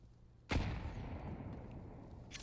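A grenade goes off in Counter-Strike during a pro match, a sudden loud boom at about half a second that trails into a long rumbling decay.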